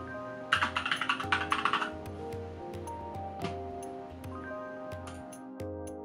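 A password is typed on the keyboard of a 2008 MacBook Pro, starting with a quick close burst of crisp key clicks and followed by a few scattered single taps over a faint steady hum.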